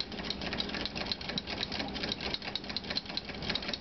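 A homemade electromagnetically driven rotary motor idling, giving a fast, even mechanical clatter of regular pulses, close and moderately loud, with no talking.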